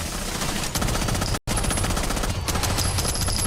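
Rapid automatic gunfire rattles nonstop in Rainbow Six Siege X during a competitive esports match, loud and close, with a brief silent cut partway through and no voices heard.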